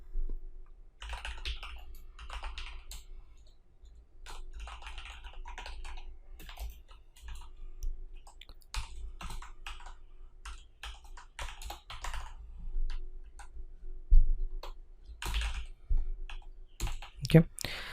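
Scattered bursts of keyboard clicks as code is typed on a computer keyboard, soft and intermittent with pauses between runs of keystrokes, over a low background hum.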